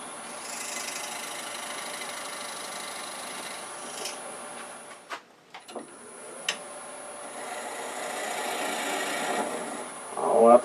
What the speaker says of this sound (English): Now we're going to drill a depth hole.